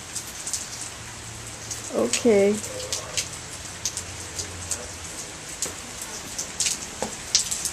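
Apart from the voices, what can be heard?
heavy rain falling at night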